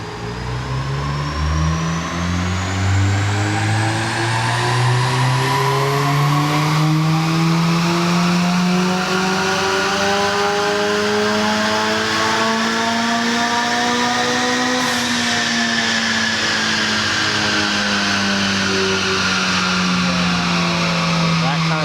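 A tuned car engine revs hard through a sustained power run on a dyno, its note climbing steadily, dipping briefly, then rising again, loud and close throughout.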